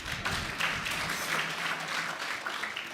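Steady applause from faculty and audience at a graduation lecture, a continuous patter of many hands at moderate volume without a break.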